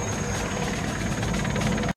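A helicopter in the Rambo III film soundtrack, a dense, steady rotor roar with rhythmic blade chop, loud and continuous before cutting off abruptly.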